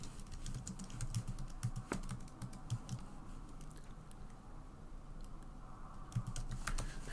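Computer keyboard typing as soft, scattered keystrokes and short clusters of taps, faint against a low background hum.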